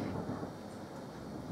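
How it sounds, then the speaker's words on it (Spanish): A low rumble of thunder from a lightning storm in Seville, faint and distant, continuous with a soft rainy wash behind it. "No sé si habéis visto reflejarse un relámpago, pero está cayendo ahora aquí una en Sevilla que no veáis"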